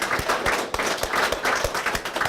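Audience applause at a formal policy talk on United States–Taiwan partnership, a steady mid-level wash of many hands clapping with faint sharper claps scattered through it.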